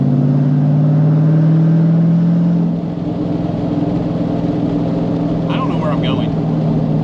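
Manual V8 car fitted with an equal length exhaust gives a loud, deep, burbling engine drone that dips slightly partway through and then carries on, heard from inside while driving.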